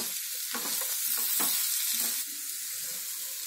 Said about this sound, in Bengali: মিশিয়ে আমি 2 মিনিট ভাজব।